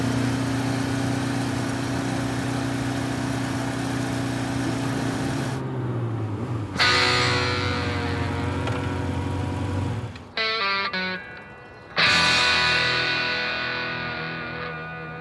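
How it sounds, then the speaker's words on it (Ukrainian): A motorcycle fitted with off-road tyres, with an elastic, powerful and explosive engine, revs hard and pulls away. The engine note climbs and drops through several gear changes, then briefly cuts out before roaring back loudly. "Еластичний і потужний двигун має вибуховий характер"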